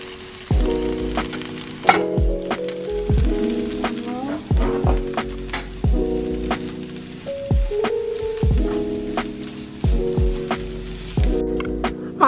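Corn kernels sizzling and browning in a hot pan, a steady frying crackle with repeated scraping stirs every second or so, loud and close, no voices.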